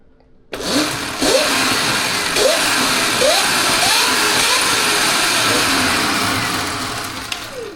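Sur-Ron Light Bee X electric dirt bike with a new 54-tooth rear sprocket, motor spinning up with rising whines after a click, then a sustained loud electric hum and drivetrain whir that slowly eases off; no speech.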